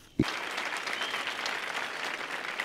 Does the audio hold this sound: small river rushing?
no